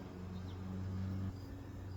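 A steady, low drone of agitated honey bees being shaken from a hive frame hums throughout, buzzing close by, with a slight shift in pitch partway through.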